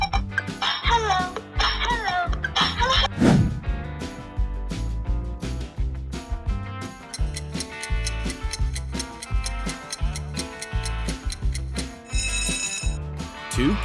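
Hello Kitty smartphone ringtone, a bright, bouncy electronic melody with ticking, clock-like beats and chime flourishes, playing continuously and clearly for about fourteen seconds.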